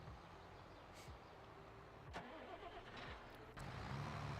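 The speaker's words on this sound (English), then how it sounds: "Another tractor." A tractor engine in the farming video game Farm Simulator 22 runs steadily as a low, constant mechanical drone, with a few faint clicks and a slight rise in level near the end. No one speaks.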